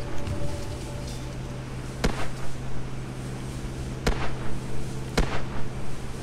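Gunfire in the Airmen Alpha airship-boarding game: three sharp shots stand out at roughly two-second gaps over a steady droning background, with no talking.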